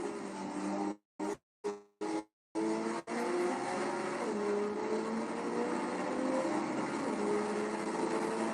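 Race cars roar past on the circuit at Sebring, Florida, a loud sustained engine drone with shifting pitch, broken early by a few abrupt cutouts before settling into continuous high-revving noise.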